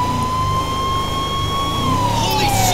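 A vehicle siren in GTA 5 holds a steady, loud, continuous wail that drops slightly in pitch toward the end, alone over a rumbling engine and road noise.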